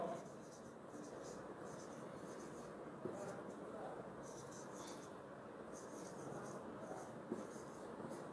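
Pen or pencil writing an answer by hand on paper during an English lesson: a quiet, continuous scratchy stroking with small pauses, close to the microphone, with a faint voice in the background.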